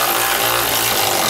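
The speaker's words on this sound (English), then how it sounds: "now we can tighten down that last little 13 millimeter bolt down here" Power tool tightening a 13 millimeter bolt while installing a Roadmaster crossbar-style base plate kit on a 2019 Ram 1500, a brief, loud, continuous whirring drive with no voices.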